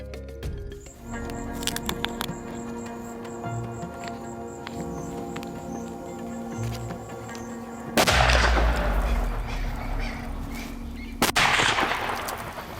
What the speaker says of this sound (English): To see a shot pulled off second like that onto a lion, that was incredible.